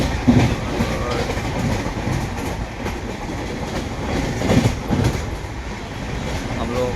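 A Barauni clone special passenger train running on rails, heard from onboard: a continuous close rumble and rattle of wheels with occasional clickety-clack beats, with a voice talking over it at times.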